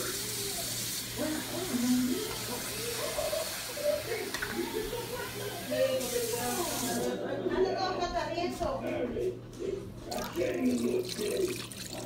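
Water is poured into a pot for shrimp soup, a steady splashing stream running under a voice as she talks throughout.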